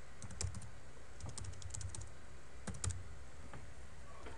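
A username and password being typed on a computer keyboard during an Ubuntu 10.10 installation, with quick bursts of crisp key clicks separated by brief pauses, close and distinct against low background hum.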